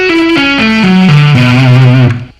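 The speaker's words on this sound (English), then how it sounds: "It's a minor 9 arpeggio with a suspended 4th." Electric guitar with distortion and effects plays a slow minor 9 arpeggio with a suspended 4th, single sustained notes stepping down one by one in a steady, even pattern, loud and alone until a fade at the end.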